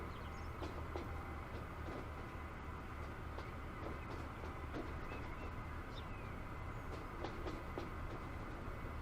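Train in Transport Fever 2 crossing over into a junction, a steady rolling rumble with faint repeated clicks of wheels over rail joints, continuous and moderately loud with no talk.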